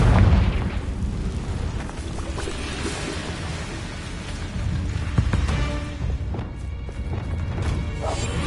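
Crashing, rumbling blasts from a fiery blasting curse in a Hogwarts wizarding video game, a dense sustained roar with scattered impacts and debris crackles throughout.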